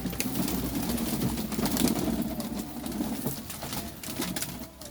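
A flock of pigeons feeds together, giving a steady bed of low cooing and soft pecking and shuffling, close by and continuous, without speech.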